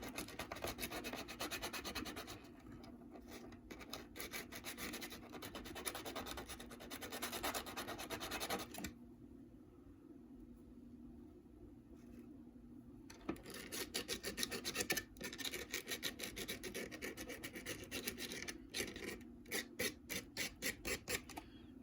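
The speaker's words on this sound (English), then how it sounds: "It'll be time to replace this sandpaper soon." Sandpaper rubs back and forth on LEGO train parts in close, rasping strokes, pausing briefly before resuming with faster, rhythmic scrubbing; no one talks.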